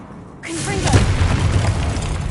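A Confringo spell explosion in a Harry Potter video game: a sudden loud booming blast with a sustained rumbling roar that fills the rest of the moment, close and dominant.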